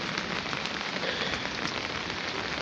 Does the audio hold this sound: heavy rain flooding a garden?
yes